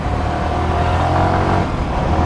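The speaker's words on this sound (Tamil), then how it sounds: "இவ்வளோ கூட்டம்னா இவ்வளோ டிராஃபிக்காக இருக்குது." Congested Sunday-morning road traffic with a steady, loud wash of car engines and passing vehicles, continuous and close, with no talk.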